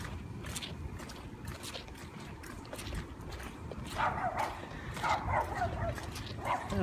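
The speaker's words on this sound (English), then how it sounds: "Oh, shut up, dog, or I'll drown you." A dog barks in short repeated yips outdoors during a flood, coming from nearby over a rough background of wind and water noise.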